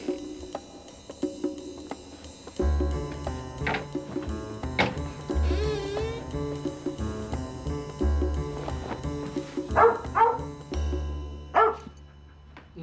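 A dog barks indoors, several sharp barks standing out over music with heavy low-end thumps that play throughout.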